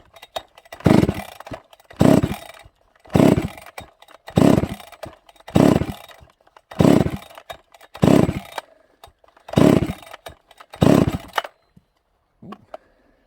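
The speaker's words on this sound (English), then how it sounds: "I have not attempted to fire this saw" A ported Husqvarna 272 XP chainsaw being pull-started, about ten loud rhythmic cranking pulls with brief sputtering engine bursts, close and alone, ending in quiet.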